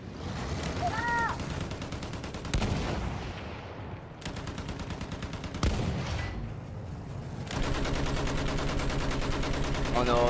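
Enemy gunfire in the World War I shooter Battlefield 1, with sharp bursts and shots cracking at intervals over a dense, noisy battlefield din, mixed with game sound effects and occasional voices.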